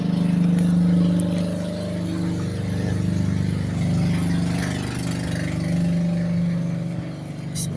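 A Rusi Macho 150 motorcycle engine idles smoothly after a tune-up, a loud, steady low hum held close throughout with only slight swells in level and no talking.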